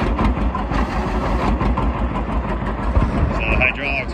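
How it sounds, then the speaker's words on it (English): A 1952 John Deere 60 tractor engine runs and bogs slightly as the hydraulics load it, a low rough chugging throb, fairly loud and close, with a faint higher squeal near the end. "you'll hear it load up."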